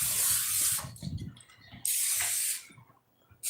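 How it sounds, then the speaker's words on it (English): Cooking oil spray hissing onto a pan aboard a boat, two loud bursts of about a second each, separated by a short pause, with a brief third burst at the end and faint clatter and low background sounds between them. "Spray the pan down."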